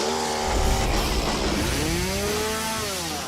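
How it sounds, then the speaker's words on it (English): A chainsaw runs steadily and loudly, its whining engine pitch rising and falling as it bites into a wooden pole, continuous throughout without any voices. "Chainsaw in hand, she's ready to bring it down."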